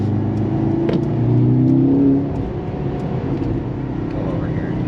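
A 2023 Mercedes-AMG C43 sedan engine pulls hard from inside the cabin, a steady low drone that swells in a brief surge of acceleration before settling back, with voices talking over it.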